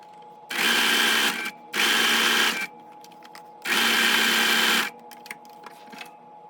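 Sewing machine finishing a raw fabric edge without a serger, three loud close bursts of fast whirring stitching separated by short quiet pauses with faint handling clicks.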